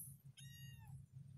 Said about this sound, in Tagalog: Medyo maingay itong dalawang pusa natin.